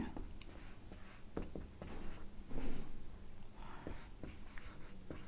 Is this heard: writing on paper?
yes